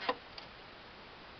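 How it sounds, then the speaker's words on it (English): Electric fuel pump mounted under the gas tank of a 1971 VW Super Beetle, two faint, quick ticks heard close up over low hiss. "You can hear a fuel pump."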